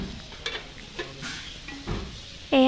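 Ghila pitha frying in a pan, with soft intermittent sizzling and a few light clinks and scrapes, then a sudden loud tonal burst near the end.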